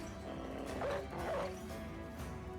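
A war dog barks twice in the tactical video game Battle Brothers, moderately loud, over a low ambient game soundtrack.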